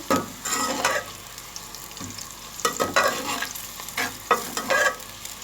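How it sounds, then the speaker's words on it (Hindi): Steady sizzling of onions frying to golden brown in a pan, with repeated scraping and stirring strokes rising above the hiss, close up and moderately loud. "गोल्डन ब्राउन होने तक फ्राई करेंगे"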